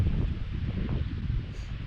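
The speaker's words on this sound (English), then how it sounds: "It's very windy." Steady low wind buffeting a microphone, a continuous rumbling roar with no voices, holding at a constant level throughout.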